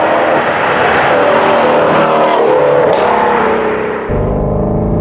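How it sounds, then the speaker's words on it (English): A Ford Mustang Shelby GT350R V8 roars loudly and close up, its revs rising and holding steady throughout, then dropping sharply near the end as the throttle lifts and the engine settles into a deeper idle-like rumble. "It's up there with the best sounding, certainly among the best sounding V8s I've ever heard ever."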